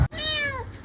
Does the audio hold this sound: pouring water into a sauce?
no